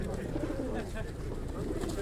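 Pigeons, including Georgian and other fancy breeds, coo softly in the background under a noisy, bustling outdoor pigeon market with people talking nearby.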